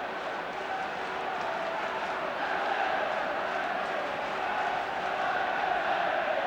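A stadium crowd at the 1977 League Cup Final second replay between Aston Villa and Everton roars in a sustained, even swell of cheering and shouting, distant and massed throughout.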